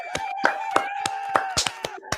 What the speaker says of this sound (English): please give us a round of applause for Ultimate Racing coming out with some cool fucking shit